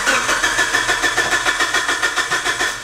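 A big-turbo Mitsubishi Evo cranks over without catching, its starter churning in a fast even rhythm that stays loud and close, with no engine firing or revving.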